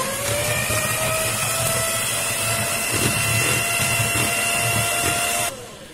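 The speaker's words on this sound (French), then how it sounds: "Je vais prendre mon fouet et je vais venir fouetter" Cream being whipped with a hand whisk or electric beater for an eggless charlotte-style tiramisu, a steady close whirring drone with a rising pitch that cuts off abruptly near the end.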